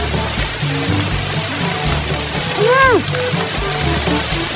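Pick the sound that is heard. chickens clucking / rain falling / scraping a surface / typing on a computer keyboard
rain falling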